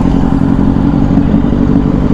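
TVS Apache RTR 310 motorcycle engine running in sport mode on a test ride, a steady loud drone with continuous low rumble throughout and no speech.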